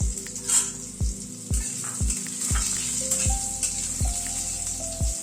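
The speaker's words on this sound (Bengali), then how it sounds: "আলুটাকে আগে একটুখানি ভেজে নিচ্ছি।" Parboiled potatoes frying in a pan give a steady, close sizzle with a rhythmic series of sharp knocks as a utensil taps the pan roughly every half second.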